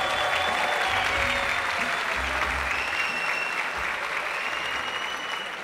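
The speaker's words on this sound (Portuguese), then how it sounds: "eu quero uma salva de palmas para André Marinho," Loud, sustained applause from a studio audience welcoming comedian André Marinho, thick clapping and some crowd noise holding strong from start to finish.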